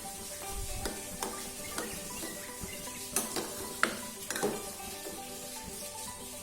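Thick coconut milk is stirred into a Malabar raw banana curry in a pan, with a spoon scraping and clinking irregularly against the vessel over a soft simmering hiss.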